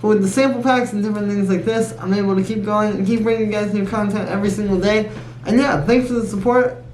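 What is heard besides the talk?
None of the usual background noises is heard.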